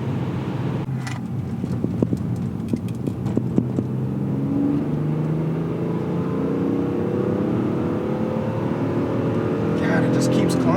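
A BMW E46 M3 engine roars and climbs steadily in pitch under acceleration, loud and close, with a voice speaking over the rising revs.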